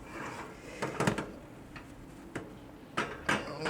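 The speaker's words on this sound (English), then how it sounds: "So let's get these things out of the oven." Blueberry banana muffins come out of a home oven in a kitchen, with scattered clinks and clunks of a tray, rack and oven door over quiet room noise.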